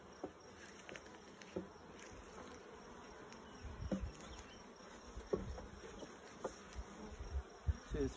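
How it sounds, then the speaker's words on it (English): Bees buzz steadily around an open beehive during an inspection. The drone is continuous and moderately close, with soft knocks and handling sounds scattered through it and no talking. "big bunch of bees here."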